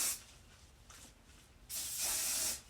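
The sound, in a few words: hairspray being sprayed on hair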